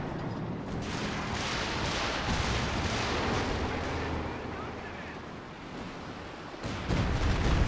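Anti-tank guns firing in the video game Company of Heroes 2, with heavy, booming shots and rumbling battle noise under continuous commentary, and a louder blast near the end.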